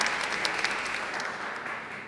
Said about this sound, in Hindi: तालियां डीनो की